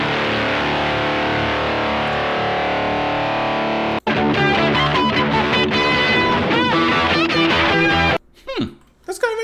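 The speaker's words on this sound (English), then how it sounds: "It reproduces the input signal from a guitar 1 octave higher in pitch and mixes it with the original and adds distortion fuzz." Electric guitar through an octave fuzz pedal adding a note an octave up and heavy distortion, a thick sustained buzzing chord that breaks into busy, gritty phrases and then cuts out into scattered fragments.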